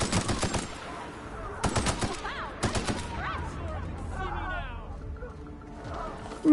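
Bursts of rapid automatic gunfire from a sci-fi shooter game, The Outer Worlds, come in three short volleys about a second apart. Game sounds and chatter fill the gaps, ending with a sudden loud thump.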